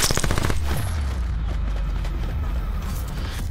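Rapid automatic gunfire in a first-person shooter video game, a dense burst of sharp shots opening the clip, then a sustained loud rumbling roar of combat noise.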